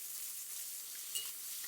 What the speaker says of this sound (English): So it's kind of like frying